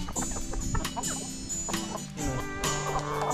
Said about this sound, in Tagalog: Ginigirian po yung ating mga tandang eh.